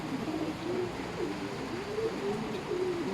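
Young pigeons cooing and calling steadily at close range while being fed grain, with no speech.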